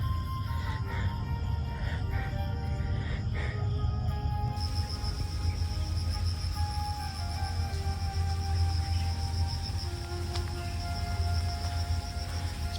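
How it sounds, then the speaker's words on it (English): Cicadas on Lamma Island, Hong Kong, keep up a steady, high, shimmering buzz over a low outdoor rumble. The buzz grows fuller partway through and holds continuously at a moderate distance. "You can probably hear the cicadas."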